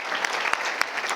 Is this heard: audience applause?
yes